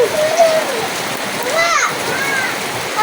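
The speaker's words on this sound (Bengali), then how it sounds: "এখন দিয়ে দিতেছি পরিমাণ মতো পানি" Water pours steadily into a cooking pot holding chickpeas and potatoes for a village curry, a continuous close splashing gush over roughly three seconds, with faint child chatter in the background.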